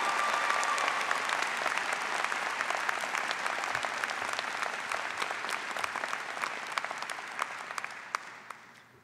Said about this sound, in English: Please give these students your applause.